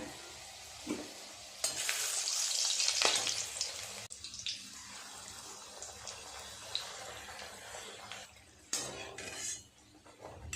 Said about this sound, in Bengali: প্রত্যেকটা লুচি খুব সুন্দর ফুলছে টোপর হয়ে অনেকগুলোই লুচি ভাজা হয়ে গেল